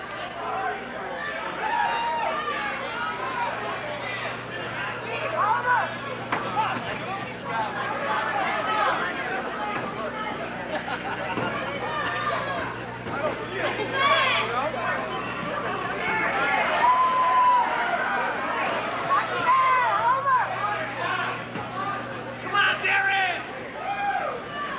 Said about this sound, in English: Crowd virtually going to cheer for anything that Gibbins throws.